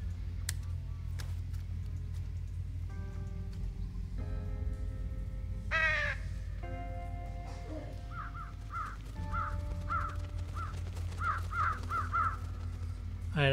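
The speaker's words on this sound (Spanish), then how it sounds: "A ver, a tener pájaros aquí no sirve de nada." Crows caw repeatedly in the video game Trüberbrook, harsh calls in short bursts over a steady low ambient hum, with ticking game sounds between them.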